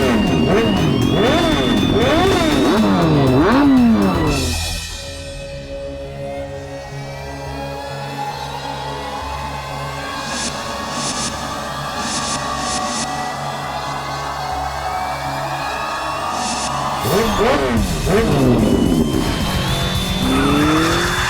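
Vehicle engines rev and roar loudly at the start of a bike race toward a cliff, with sweeping pitch rises and falls at the opening and close around a steady, lower droning stretch in the middle.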